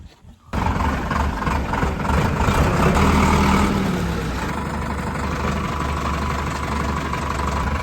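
A tractor engine idles on a farm at sowing time, a loud, steady low rumble that runs throughout after a quiet start, with a faint high whine in the background.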